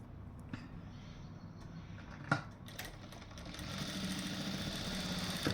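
A sewing machine runs edge stitching on blouse sleeve piping, starting with a few clicks and taps before settling into a steady whirring hum that grows slightly louder toward the end, near and alone.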